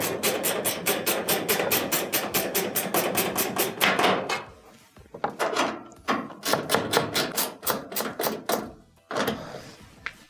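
A ratchet tightens screws on the back panel of a clothes dryer, giving fast, loud, close clicking runs that pause briefly and start again several times.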